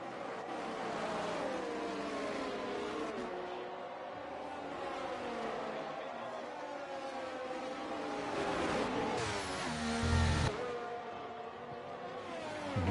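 Race cars driving through turn 4 at a pre-season test in Spain: a continuous engine drone with shifting pitch as several cars pass, building to a louder surge near the end.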